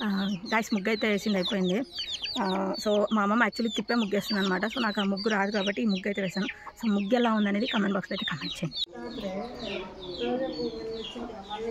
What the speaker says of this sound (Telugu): ఈ కోడి శబ్దం ఒకటి